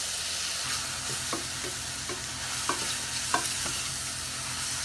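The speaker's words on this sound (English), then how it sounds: "And I brown them just for a second." Mushrooms browning in a pan over lowered heat give a steady, moderate sizzle with a few soft scrapes and stirring clicks, no talking.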